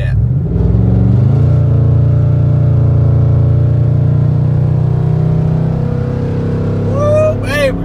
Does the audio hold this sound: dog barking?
no